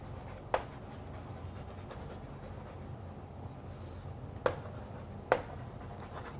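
Chalk or marker writing on a classroom board, faint scratchy strokes with three sharper taps, set against quiet room tone and no speech.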